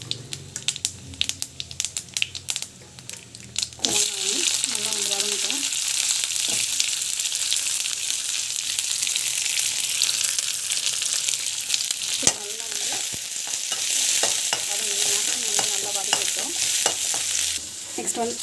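Mustard seeds and cumin frying in hot oil, a steady crackling sizzle up close after a few seconds of stirring and clatter at the start, continuing without speech.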